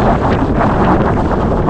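Strong wind buffets the microphone on a hilltop at Kurisumala in Vagamon, about 4,000 feet up, a loud, close, continuous roar with gusty swells and no voices.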